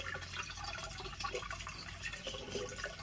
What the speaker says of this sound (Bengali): দেখো জল পড়ছে দেখেছো কত জল থাকে তুমি